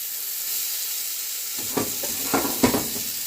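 Homemade ginger garlic paste hits a hot pan for a ridge gourd curry: after a quiet moment, sharp sizzling bursts swell in three or four waves, with steady frying hiss and light stirring close by.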